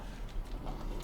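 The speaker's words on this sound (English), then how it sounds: "Oh, it's a windmill. I was wondering what that sound was." A windmill turning in Dragon Age: Origins gives off a faint, soft rhythmic knocking and creaking, low and steady like slow clip-clopping, heard quietly at a distance.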